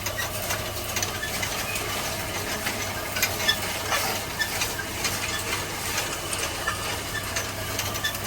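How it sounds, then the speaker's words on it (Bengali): Puffed rice (muri) frying in a home kitchen: a steady, dense sizzling and rustling hiss with light scraping and stirring clicks throughout, moderately loud and close, with no voices. "মুড়ি ভাজতে দিয়েছে আবার এখানে"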